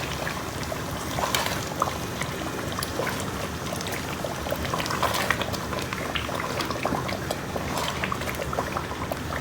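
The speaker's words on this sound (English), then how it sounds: "Now stir." A pot of Nigerian stew boils and bubbles while being stirred, a close, steady simmering burble with irregular wet pops and scrapes throughout, no voices.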